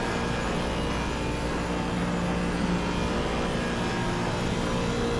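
GT3 race car held at full throttle through the Dottinger Höhe straight at the Nürburgring in a sim racing game, a steady, loud, unbroken engine roar with no gear changes or pauses, filling the whole stretch.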